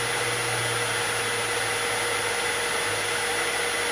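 A wood lathe spins a cedar vase at 1,000 RPM during finishing, producing a steady, loud motor hum with a faint high whine and a constant airy hiss throughout.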